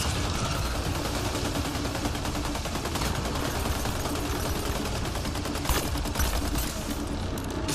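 Dense, continuous gunfire in the video game Mass Effect: Andromeda, rapid overlapping shots and blasts filling the whole stretch at a steady, loud level.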